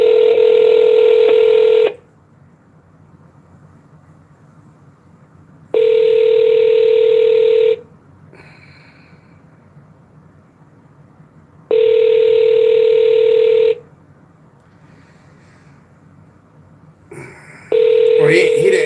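A phone call rings out unanswered: long, loud electronic ringback tones repeat about every six seconds with quiet gaps between them, and a brief burst of other sound comes near the end.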